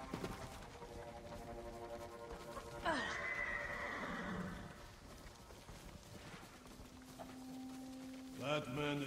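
Horses whinny loudly over a steady clatter of hooves, with a second shorter neigh near the end; faint voices in the background.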